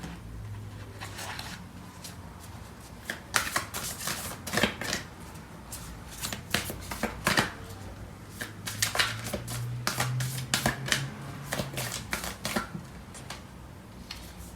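A deck of tarot cards is shuffled close by in repeated quick riffles and soft slides, with a crisp burst in each pass and short pauses between them, and no voice.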